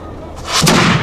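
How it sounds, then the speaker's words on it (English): A historic artillery cannon fires at a night-time demonstration marking the retreat from Fort Lee: a single loud, deep boom bursts out sharply after a brief lull and rolls away in a short rumbling tail. "What a marvelous time to see these guns fired is at night."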